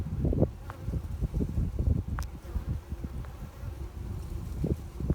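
Honey bees hum and buzz continuously at close range around a horizontal Langstroth hive, with individual insects drifting past the microphone and a soft outdoor rustle beneath the steady drone.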